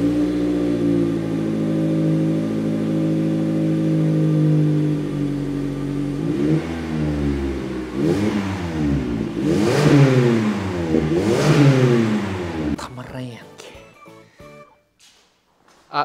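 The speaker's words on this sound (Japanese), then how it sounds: "マフラー保安基準適合です。 でも結構いい音するんでね、" Toyota Noah 90 series with an aftermarket road-legal muffler, idling steadily then revved in several sharp rising and falling bursts close to the exhaust before cutting off into clatter.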